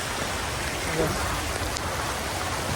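Heavy rain pours steadily over a village, a dense, even wash of drops that stays loud and close the whole time with no talking.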